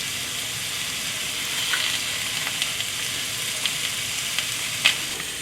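Duck breast sears in a hot pan with a steady, close sizzle and crackle, a few sharper pops breaking through the continuous frying hiss, no voices.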